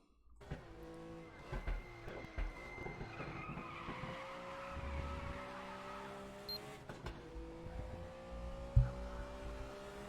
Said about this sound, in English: Now, I did a real big drift on this corner somehow.